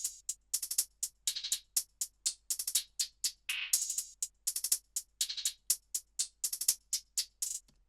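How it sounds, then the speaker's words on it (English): Two layered house hi-hat loops tick along in a steady, crisp rhythm, dense and bright with short bursts repeating close together and nothing else underneath. "two hi-hat loops. They sound like this together."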